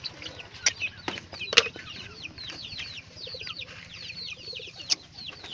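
Pet pigeons at feeding time fill the air with soft repeated chirps and coos over a low background murmur, punctuated by a few sharp clicks or taps of feed and containers, moderately near.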